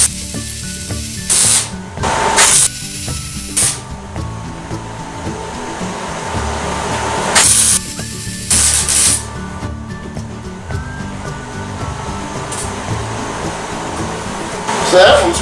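Welding on a homemade brake drum forge, heard as several harsh, hissing bursts of a few seconds each, separated by quieter stretches of background workshop noise.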